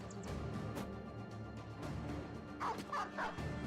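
A dog barks a few times in the Battle Brothers video game with the Reforged mod, short yips layered over busy in-game battle sounds.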